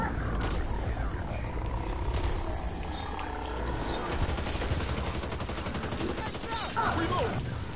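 Shotgun fire in a video game, dense overlapping blasts and battle noise running without a break, with a player's voice over the top.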